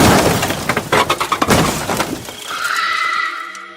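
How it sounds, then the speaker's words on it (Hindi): A lift in a horror animation crashes loudly: a dense burst of banging, breaking impacts for about two seconds, then a ringing, metallic tail fading out, with no voices. "और बहुत तेज लिफ्ट के टकराने की आवाज आती है।"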